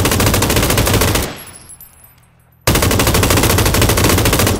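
Sustained automatic gunfire in the video game PlayerUnknown's Battlegrounds, two loud rapid bursts broken by a short near-silent gap.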